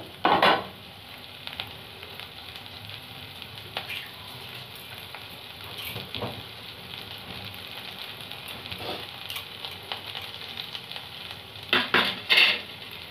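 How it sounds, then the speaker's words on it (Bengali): Capsicum and beans fry in hot oil, giving a continuous moderate sizzle broken by a few sharper clanks and scrapes of a spatula against the pan, loudest near the start and end. "তারপরে দিয়ে দিলাম ক্যাপসিকাম আর বিনস। এটাকেও আমি ভালো করে ফ্রাই করব।"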